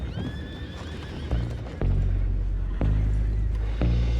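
Horses in the video game Red Dead Redemption 2 give loud, close whinnies over the game's ambient background, followed by a few heavy hoof thuds and clip-clops.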